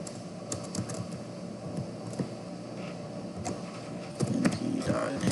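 Rapid clicking of computer keys being typed, steady and fairly close, with short bursts of keystrokes while someone writes code.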